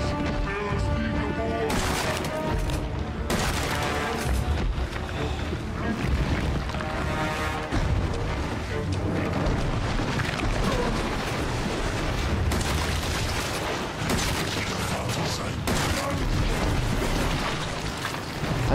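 Repeated heavy shotgun blasts and booms fire amid dense, loud game noise in Resident Evil 7 played in VR, with a voice talking over the action.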